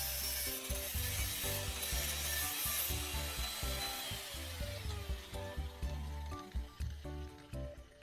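Metal strip being cut for an angle grinder bracket, a loud, close, rhythmic back-and-forth sawing rasp with repeated strokes that grow choppier toward the end.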